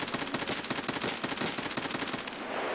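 Rapid automatic gunfire from Escape from Tarkov, a fast evenly spaced burst of loud shots that runs for over two seconds and then cuts off abruptly.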